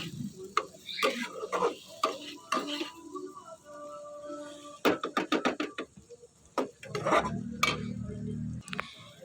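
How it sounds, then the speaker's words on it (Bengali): Boiled eggs being stirred into fried spice paste for egg curry, with irregular clattering scrapes of a spoon against the pan and soft sizzling between the strokes. "ডিমটা দিয়ে একটু ভালো করে নেড়ে চেড়ে নেব।"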